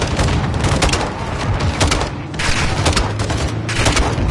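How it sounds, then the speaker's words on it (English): Launcher explosion and gunfire in Modern Warfare 2, a loud, dense battle din with continuous rapid shots and booms throughout, close and sustained, with no talk. "Gaz, hit with the launcher!"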